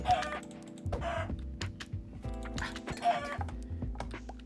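Chickens in a video game cluck in short repeated bursts over a steady electronic background hum, with some faint clicking like keys throughout.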